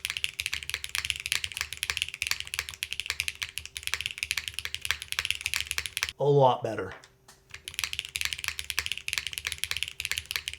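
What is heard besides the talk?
typing on a mechanical keyboard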